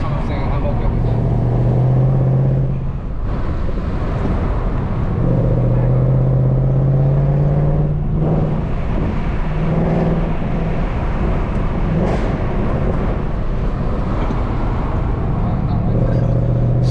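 A Mercedes C63 AMG is driven through the bends of a winding road, its engine giving a loud, continuous drone that rises and falls with the corners while people talk inside the car.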